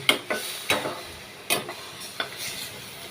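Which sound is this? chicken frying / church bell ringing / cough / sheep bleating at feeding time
chicken frying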